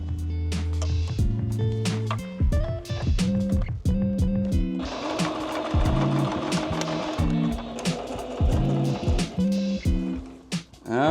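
A sewing machine runs in short bursts and longer stretches while hemming a pair of fringed chaps, the whirring stitching mixed with clunks and tonal whines, close and fairly loud.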